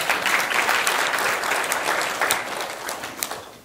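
Applause from a seated audience at a university presentation competition in Seoul, a steady dense clapping that fills the whole stretch without speech over it, fading slightly toward the end.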